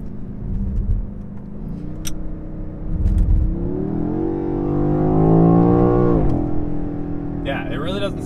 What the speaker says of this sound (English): It'll just sit there pinging at the red line, pinging at the rev limiter if I don't shift up.